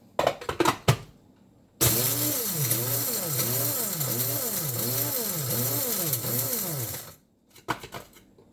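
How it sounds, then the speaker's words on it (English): A coffee grinder grinding dried blackberries whirs loudly for about five seconds with a steady, pulsing motor drone, bracketed by short clattering knocks before and after. "now we're going to work with the coffee grinder"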